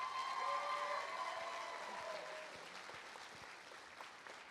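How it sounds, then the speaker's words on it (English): A Broadway show audience applauds steadily, the clapping loud at first and gradually fading over a few seconds. "another big round of applause"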